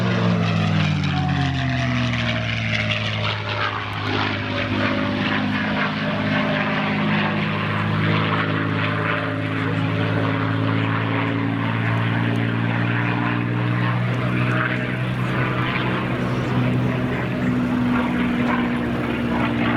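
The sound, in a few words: P-51 Mustang propeller airplane flying aerobatics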